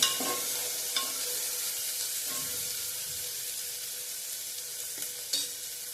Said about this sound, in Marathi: छान असा 1 मिनिटभर हे परतून घ्यायचे.